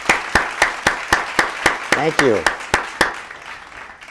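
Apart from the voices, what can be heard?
audience applause for a state senator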